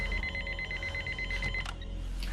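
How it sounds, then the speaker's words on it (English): A telephone rings with a steady, rapid electronic trill, fairly quiet and alone, stopping after about a second and a half and followed by faint clicks. "the sound of the phone was inserted in post"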